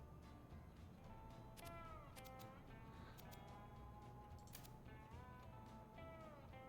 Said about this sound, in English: It sounds like so much cat.